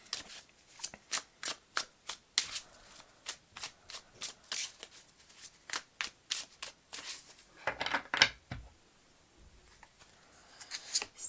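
Tarot cards are shuffled by hand in quick repeated riffles, each a crisp papery burst. The bursts come in an uneven rhythm, close and fairly quiet, with a longer flurry partway through.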